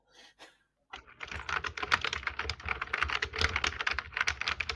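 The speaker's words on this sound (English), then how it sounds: "My keyboard's loud too." Loud, rapid computer keyboard typing runs almost nonstop after a brief moment of quiet with a faint distant voice, the keystrokes close and clattering in dense bursts.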